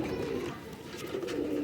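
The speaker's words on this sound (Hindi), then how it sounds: "ये वो हेकड़ कबूतर है" A pigeon coos softly and steadily, close by, a low rolling murmur repeating through the short moment with no voices.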